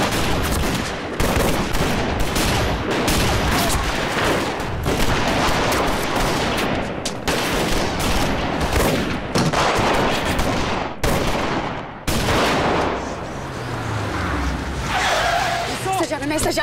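Dense bursts of gunfire crack through a police shootout, rapid volleys and single shots overlapping almost continuously for several seconds, loud and close, with engine and skid noise mixed in and shouted voices at moments.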